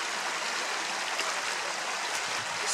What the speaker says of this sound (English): this is just gorgeous. Flowing river